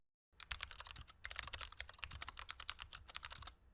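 Rapid typing on a computer keyboard as a password is entered, a dense run of sharp close key clicks after a brief silent start, with no voices.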